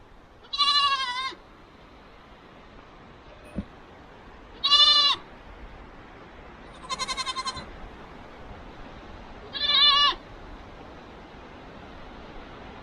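A male goat bleats loudly four times, each call a short wavering cry separated by a few seconds of quiet outdoor background noise.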